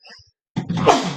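A single sharp, loud sneeze up close, preceded by a short breathy intake and a brief pause, then a burst of explosive noise.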